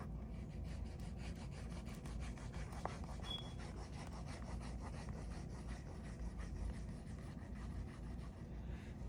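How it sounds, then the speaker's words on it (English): A steady, quiet rubbing and brushing as glue is spread across a paper flap while binding book signatures, continuous and close with no voices. "And then glue all on the flap."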